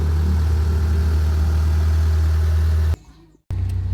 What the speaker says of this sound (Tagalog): while you're waiting for the 10 minutes of letting the engine idle para ma-flush niya